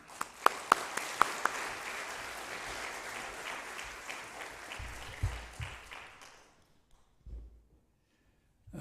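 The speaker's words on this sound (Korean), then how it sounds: "우리 큰 박수로 환영하도록 하겠습니다" A church congregation gives a big round of applause welcoming a senior pastor to the pulpit, loud sustained clapping from many people that fades out, followed by a few faint thumps.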